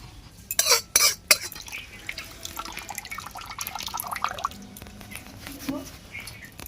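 Curdled milk chhana, set with vinegar, is poured through a wet white cloth, with a few splashy pours and drips followed by softer trickling and faint handling noises; a voice talks lightly in places.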